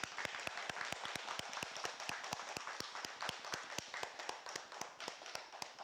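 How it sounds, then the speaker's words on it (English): A small audience at a technical meeting claps in a steady, fairly even round of applause, sounding sparse and somewhat distant, with crisp individual claps repeating rapidly throughout. "I'd like to give him a long round of applause for that."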